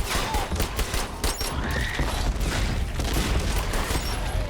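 Rapid, dense turret gunfire from the video game Sentry fills the scene, with continuous sharp shots and mechanical clatter throughout.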